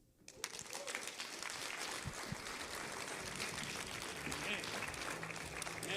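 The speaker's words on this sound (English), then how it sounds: "Let's get another round of applause for Jerome." An audience applauds after a talk, the clapping building quickly from a quiet start into sustained, dense applause from a room full of people, steady and fairly distant, with a voice faintly beneath it.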